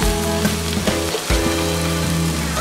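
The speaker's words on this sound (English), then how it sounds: "So simulan natin ilagay yung pork natin. Alam ko tatalsik din ito eh" Long pork slices sizzle loudly in a pan for a Korean-style samgyupsal meal at home, giving a dense, constant crackle with occasional pops and stirring.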